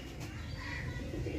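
A short burst of pigeon cooing, low throaty rolling calls close by with a faint chirp, and no voices over it.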